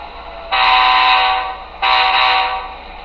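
A SoundTraxx decoder in a model locomotive gives two bursts of loud horn-like tone as the engine is notched up, the first lasting about a second and the second shorter.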